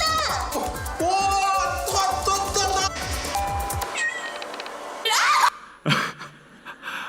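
A cat meows repeatedly and insistently in a VR study scene, up close and loud, followed by a few brief higher cries and a short sneeze-like burst near the end.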